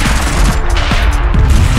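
A light machine gun fires in the vehicle combat video game Convoy. The fire is loud and continuous and comes up close, with a dense rumbling roar and faint repeating thumps.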